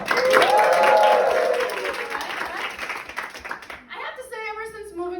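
A comedy club crowd in Berlin cheers and claps loudly in one burst that fades after about two seconds, then a comedian resumes talking.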